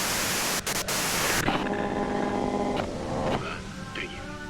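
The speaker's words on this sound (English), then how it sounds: "you can do it through the white noise." A steady hiss of white noise plays in the Disco Elysium video game, cut by brief gaps, then continuing fainter beneath background music and tones.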